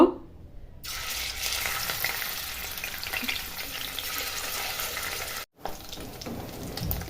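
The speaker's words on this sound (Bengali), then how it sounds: "এখানে আমি আগে থেকে তেল গরম করতে দিয়ে দিয়েছি। এবার মাছটা ভেজে নিব।" Pieces of katla fish frying in hot oil make a loud, dense, continuous sizzle close by that briefly drops out near the end before resuming.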